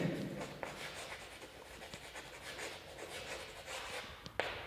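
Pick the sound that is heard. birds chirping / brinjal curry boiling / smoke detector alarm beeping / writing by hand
writing by hand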